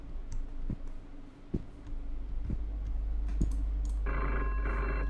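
A telephone in a video game rings and chirps with a bright trill toward the end. Several soft clicks and taps come before it over a low, steady hum. There is no speech.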